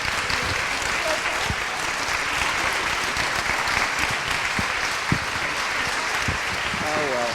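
An audience at a university anniversary awards ceremony gives a round of applause for past and present Chatham University presidents; sustained clapping throughout with a few sharper individual claps standing out, and faint voices near the end.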